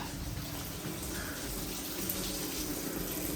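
Shower water running steadily from a domestic outlet heated by a Vaillant ecoTEC Plus 630 boiler, a constant broadband hiss and splash close by with no talk over it.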